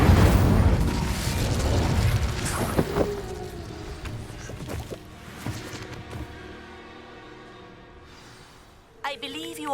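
Incendio fire spell cast in Hogwarts Legacy, a loud burst of fiery whoosh and rumbling booms that fades over several seconds, with a brief voice near the end.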